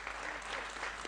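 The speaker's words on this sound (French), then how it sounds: "On peut l'applaudir pour ça." A short burst of audience clapping at a radio event in Tours, dense and even, fairly faint and continuous throughout.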